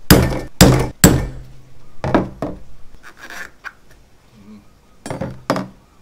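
Several sharp metallic knocks land in quick bursts, pausing between groups, as a hammer drives a coconut opener into a coconut, close and loud.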